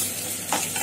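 A ridge gourd curry gets a quick stir in the pan, a brief scrape over a steady sizzle, close and short.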